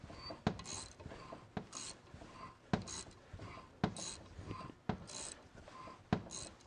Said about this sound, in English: Really, really good ratcheting end wrenches.